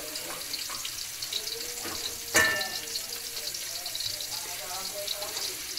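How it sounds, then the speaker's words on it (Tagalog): Flour-coated milkfish (bangus) fries in a pan with a steady soft sizzle and crackle, broken by one sharp pop or clatter midway, while someone talks quietly nearby. "Prituhin natin ng kaunti."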